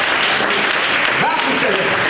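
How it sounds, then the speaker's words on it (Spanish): A church congregation claps together during an evangelical sermon, a dense, continuous wash of applause filling the room while a voice speaks over it. "Alguien que le dé un aplauso a Cristo"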